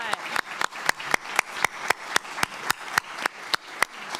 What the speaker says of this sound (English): let's go ahead and give these guys a round of applause